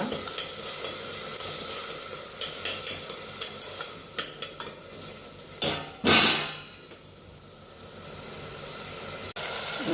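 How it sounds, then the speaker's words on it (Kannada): Vegetables for pulao stir-fry in oil, a steady close sizzle with a run of regular spoon scrapes and taps against the pan, then a brief louder hiss, with no talking. "ಎಣ್ಣೆಲಿ ಚೆನ್ನಾಗಿ ಫ್ರೈ ಆಗ್ತಾಯಿದೆ ತರಕಾರಿ."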